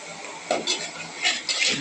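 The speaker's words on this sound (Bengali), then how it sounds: "নাড়াচাড়া করে নিচ্ছে মশলাটা কিছুক্ষণ কষাতে হবে" Spoon stirring chicken and potato curry with spices in a metal pot, giving a few scraping, clattering strokes close up in a short burst, with faint background noise and no clear speech.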